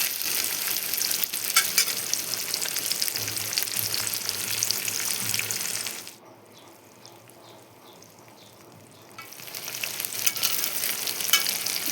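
Soya chunks sizzling in soy sauce in a pan while being stirred, a steady frying hiss that drops away for a few seconds of near quiet, then returns.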